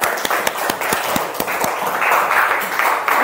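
Classroom students clapping for a student group in a lesson, beginning as a few distinct sharp claps and thickening into a fuller round of applause, heard nearby.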